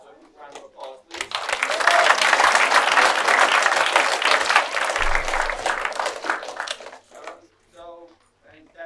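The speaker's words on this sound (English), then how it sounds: "So a quick round of applause, please." Round of applause at a Boy Scout troop Court of Honor, swelling quickly after a few words of talk, holding dense and lively for several seconds, then tapering off as speech returns.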